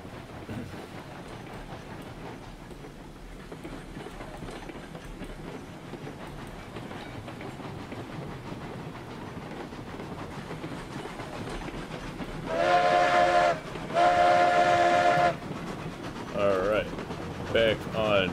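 A train in the RailRoads Online video game runs in the rain under a steady low rumble, then loud whistle blasts sound close by near the end, in two long tones followed by shorter ones.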